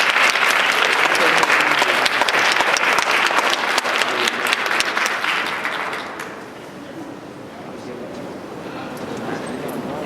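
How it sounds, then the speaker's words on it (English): Audience applause fills a high school auditorium at a poetry recitation semifinal, loud and sustained for about six seconds before thinning into scattered claps and room murmur. "I think all of the staff members that volunteered to do this deserve a round of applause"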